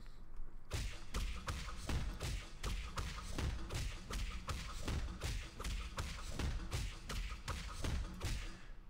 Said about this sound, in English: we'll start off with Close Combat, just your basic melee attack